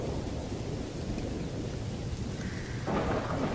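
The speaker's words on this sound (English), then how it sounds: "It was a dark and stormy night." Steady rain and a deep rolling rumble of thunder in the horror game Corpse Party fill the scene continuously, loud and close, with a slight swell toward the end and no voices.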